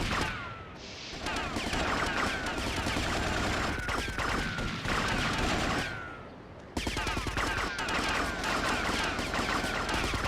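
AK rifle fire in Grand Theft Auto: Vice City Stories, sustained automatic bursts that run loud and dense with short pauses, and a gunfight rattling on around them.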